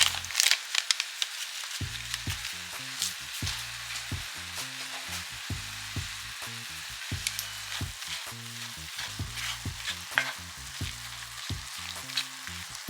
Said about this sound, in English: I'll just take some taco seasoning and season up the meat with it.